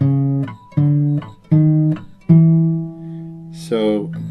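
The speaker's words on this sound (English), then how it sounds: "the low voice, is going up the fretboard chromatically" Acoustic guitar picking the low bass line of a song as it climbs chromatically up the fretboard, four close, clear plucked notes with the last ringing out, followed by a brief squeak of a finger sliding on the strings.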